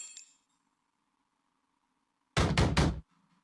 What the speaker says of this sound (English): a loud banging on the door can be heard